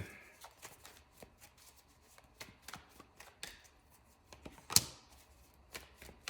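Tarot cards are shuffled in a series of soft riffling flutters and light taps, irregular and close, with a sharper slap of cards near the end during a quiet reading.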